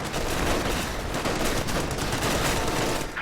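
Rapid, dense gunfire in a World War II real-time strategy battle, with a sniper shooting at a flamethrower rifleman amid squad fighting. The fire is loud and continuous, like a steady fusillade throughout.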